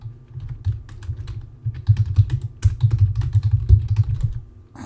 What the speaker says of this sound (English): My typing is bad today.